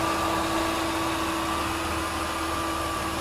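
A Mazda Tribute 3.0-litre V6 engine idles with the hood open, a steady, even hum with a faint whine, moderately quiet and unchanging throughout.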